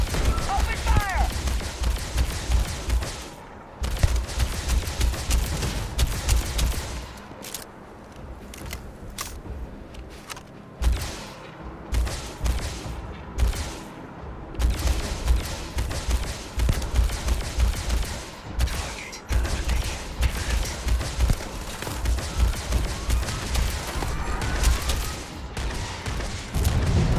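Gunfire in the Starfield game during a fight with a Terrormorph: dense bursts of rapid shots that come and go over about half a minute, loud and close, with someone talking between volleys.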